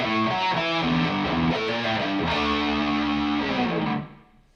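Distorted electric guitar plays a riff, a short, loud, chugging phrase of sliding notes and chords that rings out and fades at the end, with no one talking.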